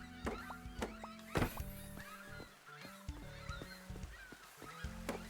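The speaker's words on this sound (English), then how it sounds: "I can still hear the seagulls." Seagulls call in Final Fantasy X, a series of short, sharp, honking cries repeating irregularly over a soft ambient background, fairly close and clear.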